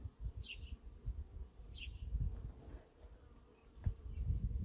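Honeybees buzzing around a hive opened for inspection, a soft continuous hum with a few louder passes of individual bees flying close by, fairly faint overall.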